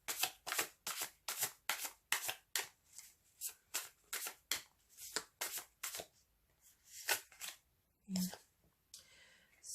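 Tarot cards shuffled in quick rhythmic riffles and bursts, close and crisp, with a few pauses and a brief soft thump near the end.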